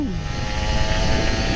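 A Kawasaki Ninja RR 150 motorcycle on a morning ride is revved hard at full throttle, giving a loud, steady, droning engine roar throughout with no talk.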